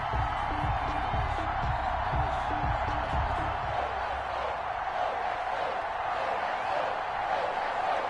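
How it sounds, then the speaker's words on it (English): A stadium crowd in an NFL video game, Atlanta Falcons against New England Patriots, roars in a steady wash of cheering, with low rumbling thumps early on under the continuous noise. "This crowd is ready"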